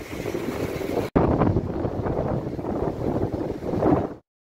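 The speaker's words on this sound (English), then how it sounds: "It's a bit windy down here." Strong wind gusts roar across the microphone at an abandoned quarry, a loud continuous buffeting that drops out briefly and then cuts off near the end.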